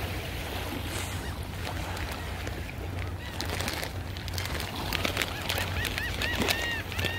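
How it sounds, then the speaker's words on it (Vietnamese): Birds call at a Texas beach, with short chirping cries that cluster near the end over a steady wash of wind and surf noise. "Mấy con chim nhiều đẹp quá."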